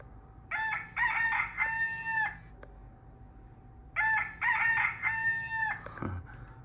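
Two loud rooster crows in quick succession, electronic and slightly tinny, a rooster-crow ringtone played on a Nokia 1208 phone, with a short pause between them.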